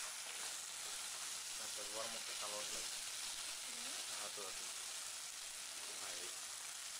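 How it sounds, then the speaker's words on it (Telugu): Chicken curry with chili powder sizzling and frying in a pan for a Chettinad-style dish, a steady hiss throughout with a voice talking over it. "కారం వేసుకుని 2 నిమిషాలు ఫ్రై చేసిన తర్వాత"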